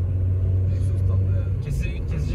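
The modified exhaust of a Volkswagen Polo rumbles low and steady up close, a throaty idle-like drone with faint speech mixed in.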